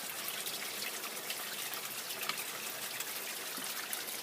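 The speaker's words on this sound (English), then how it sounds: "Look at the water coming in that thing." Water trickling and pouring steadily into a sump pump pit beneath a basement slab, a continuous close hiss of flowing liquid with no talk over it.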